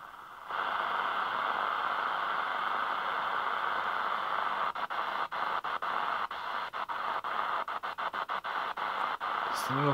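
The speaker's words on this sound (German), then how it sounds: "Es ist nur noch Rauschen zu hören auf 60," Shortwave radio tuned to 6075 kHz after the Deutsche Welle broadcast has gone off air, giving steady loud hiss and static with rapid crackling clicks and bursts through the second half.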